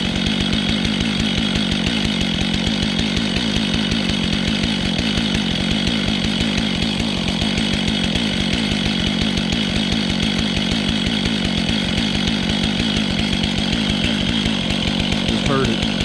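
A Stihl-type chainsaw engine idles steadily, a fast, even two-stroke putter with a rapid pulsing rhythm, close and continuous throughout.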